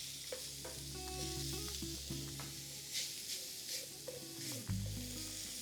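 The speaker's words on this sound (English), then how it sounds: "turn our attention back to our pan where we're browning our meat with the onion and the garlic" Meat browning with onion and garlic sizzles steadily in a hot pan, a close, continuous frying hiss with occasional stirring scrapes and a brief louder burst near the end.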